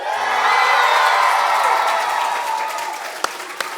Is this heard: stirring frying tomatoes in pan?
no